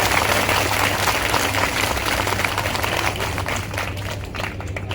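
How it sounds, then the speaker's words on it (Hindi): A large audience at a beneficiaries' conference in Ashoknagar claps in a dense, continuous roar that eases slightly toward the end. "अरे भगवती के लिए ऐसी ताली बजाओ कि भगवती को सुनाई दे।"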